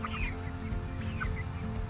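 Backyard chickens cluck faintly at a distance, with a few short, high calls rising above a constant loud, low background rumble and hum.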